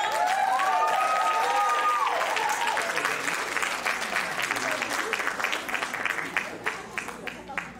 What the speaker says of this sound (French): Je vous invite à l'applaudir chaleureusement